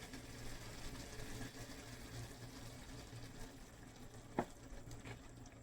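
Onions and half a cup of cooking oil frying and being stirred in a pot, a quiet steady sizzle with one brief clink of the spoon partway through.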